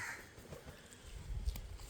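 A crow caws a few times at moderate distance, the calls fairly faint over a low outdoor rumble.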